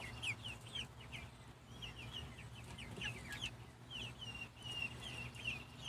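Young pullets cluck and chirp in quick, scattered bursts close by, over a low steady background hum.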